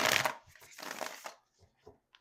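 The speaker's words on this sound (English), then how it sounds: "Just one more shuffle." Tarot cards being shuffled by hand in quick riffling bursts, a dense rustling flurry for about a second and a half, then a few soft isolated card taps before going quiet.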